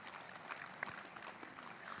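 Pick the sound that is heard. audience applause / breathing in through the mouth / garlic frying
audience applause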